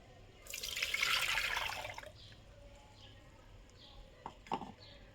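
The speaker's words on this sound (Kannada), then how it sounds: "ಈಗ ಇದಕ್ಕೆ ಇನ್ನೊಂದು ಸ್ವಲ್ಪ ನೀರನ್ನು ಹಾಕ್ತಾಯಿದ್ದೀನಿ" Water is poured into a ground puffed rice (arallu) panaka summer drink: a bright splashing pour for about two seconds, followed by a few scattered drips.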